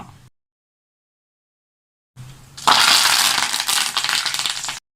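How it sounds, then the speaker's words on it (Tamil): Mustard seeds and curry leaves hit hot oil while tempering South Indian idli upma: after a stretch of silence, a sudden loud burst of crackling and spattering runs on continuously, close by. "நம்ம கடுகு சேர்த்துடலாம். இதோட கருவேப்பிலையை சேர்த்துடலாம்."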